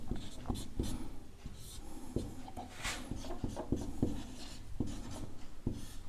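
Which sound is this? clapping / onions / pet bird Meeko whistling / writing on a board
writing on a board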